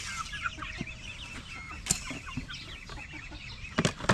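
Backyard chickens clucking steadily at close range, with a few sharper louder calls and occasional bumps, no talk.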